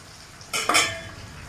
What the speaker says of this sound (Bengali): এবার আমি এটাকে একটু ভালো করে ভেজে নেব।